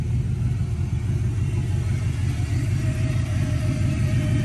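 A 1988 Monte Carlo with newly installed 3.73 gears holds a steady, loud engine roar during a burnout, a deep continuous rumble without breaks, heard up close.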